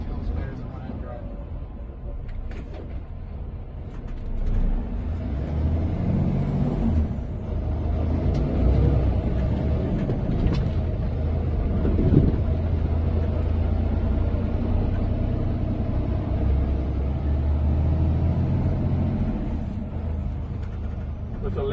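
A Western Star 57X truck with a 505-horsepower engine drones at a low, steady rumble on a test drive around MATS 2023, under ongoing cab conversation.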